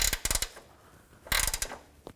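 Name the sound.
ratchet tightening Jeep Compass transmission mount bolts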